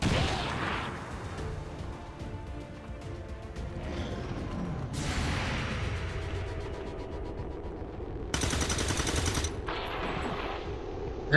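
Overwatch reaction gunfire from XCOM 2 finishes off an enemy, a burst of loud video-game shots and crashing impacts over a steady game soundscape, with a sharp high-pitched blast near the end.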